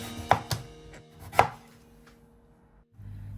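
Knife chopping through bottle gourd being cut into fairly thick pieces for a gourd and prawn curry: three sharp, close knocks on a board, two quick then one after a pause, with quiet kitchen hum between.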